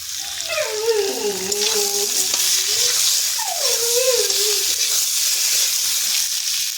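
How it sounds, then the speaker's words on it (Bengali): Beans and potatoes are being stirred and fried in oil in a wok, with a steady close sizzle throughout and scraping stir strokes over it, with no one talking. "আমি বিনসটা হালকা করে ভেজে নেব"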